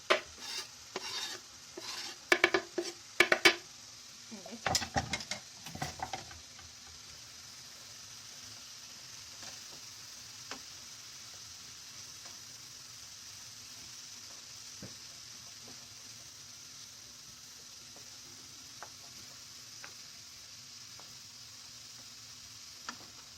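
Minced meat and plenty of onions frying and being stirred in a pan: a few seconds of scraping stirring bursts up front, then a steady low sizzle that carries on alone.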